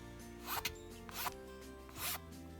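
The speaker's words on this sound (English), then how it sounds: "instead of using my knife as I normally would, I am just going to use this file rasp thing." A file rasp scrapes a balsa wood crankbait in three short, bright strokes, each a raspy burst about a quarter second long with pauses between, close and fairly quiet.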